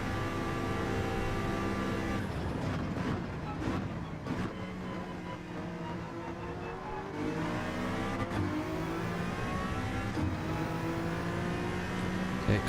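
Race car engines in Gran Turismo 7 roar and rev close by as one car overtakes another, high whining tones rising and falling with gear shifts, loud and continuous.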